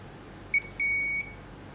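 A cutting machine for paper jobs sounds its out-of-range warning, a short quiet beep followed by a longer steady tone, near and clean over faint background hiss.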